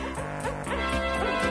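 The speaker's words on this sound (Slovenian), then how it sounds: "pes oblizne in zalaja" Dog barking in a children's fairy-tale reading about Piko the dinosaur: a quick run of six or so bright, evenly spaced barks, loud and close, with no talking over them.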